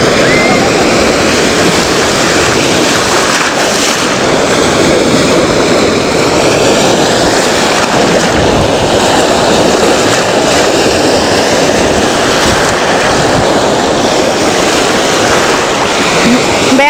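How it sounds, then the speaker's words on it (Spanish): Ocean waves rolling in on a beach around sunset, a steady broadband wash that stays loud and continuous throughout with no distinct breaks. "Ahí vienen unas cuantas olas hacia mí."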